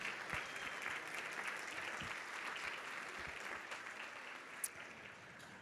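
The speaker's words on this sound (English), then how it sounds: "another huge round of applause, Colin and Karen." Faint but steady round of applause from luncheon guests honoring award recipients at a philanthropy event, dense clapping heard from a distance, with a sharp knock near the end.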